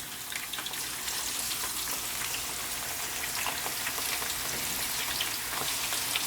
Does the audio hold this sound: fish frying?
yes